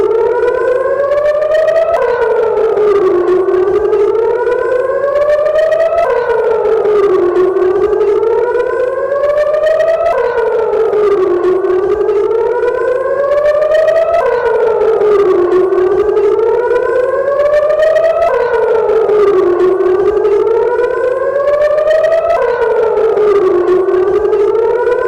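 Air raid siren wailing in Israel during an attack on Gaza, a loud steady tone that rises and falls in long repeating sweeps about every four seconds, alone with no voices.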